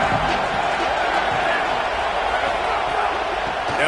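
Home crowd at a UCLA college football game, a dense continuous roar of many voices filling the stadium at steady loudness, heard under a play-by-play announcer's commentary.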